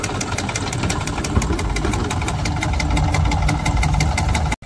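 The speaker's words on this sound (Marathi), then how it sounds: "फवारा चालू आहे बघा इथे फवाराला तिथे ट्रॅक्टर" A tractor-powered crop sprayer runs steadily in a field of pigeon pea, its engine giving a continuous, fairly loud idling drone with rapid regular pulsing, then cutting off abruptly at the end.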